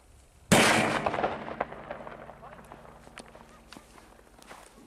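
A Signalos 3.0 firecracker from Dextrin Pyrotechnics goes off at night with one sharp, loud bang, followed by a spray of crackling pops that gradually fade.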